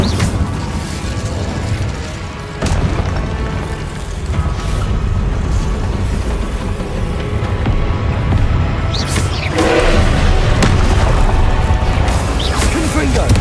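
Incendio fire spells cast repeatedly in Hogwarts Legacy, a dense roar of game combat with whooshing bursts and crackling flame over continuous loud background sound, with no clear gaps between effects.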